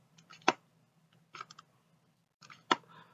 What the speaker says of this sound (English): That's the sound of the case kind of scraping against the other side of the case.